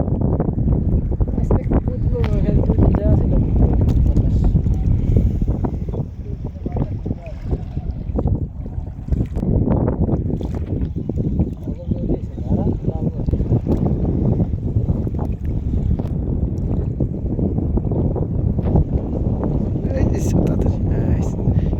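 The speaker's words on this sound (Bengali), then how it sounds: "বাতাস প্রচুর" Strong wind roars and buffets without pause while fishing with a current net in Bangladesh, a heavy gusty rumble that dominates throughout.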